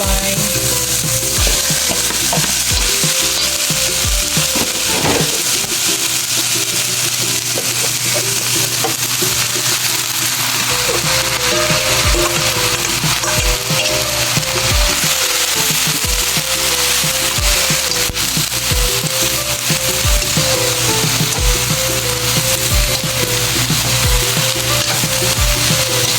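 Vegetables for chop suey are stir-fried in a hot pan, giving a loud, steady sizzle with scraping stirs and occasional clatter throughout, and no talking.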